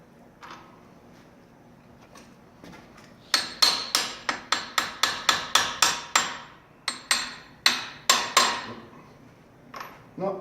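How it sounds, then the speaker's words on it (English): Small hammer tapping metal during a monster truck axle rebuild, a quick series of about fifteen sharp ringing strikes in bursts, close and clear, with a few softer taps before and after. "he doesn't need a bigger hammer. He can just use that little one he's got"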